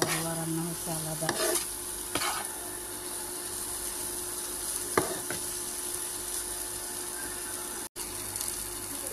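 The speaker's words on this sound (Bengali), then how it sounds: "আমার মশলাগুলো কষানি হয়ে গেছে," Spices fry in oil in a pan with a steady, close sizzle, and a utensil stirs and scrapes the pan with occasional clinks.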